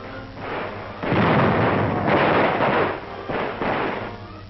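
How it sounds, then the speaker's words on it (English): Grenades clearing out pillboxes on Okinawa in 1945 set off a run of heavy, rumbling blasts, about three or four close bursts that swell and fade back to back over a few seconds, on an old, band-limited recording. "Pillboxes cleaned out with grenades."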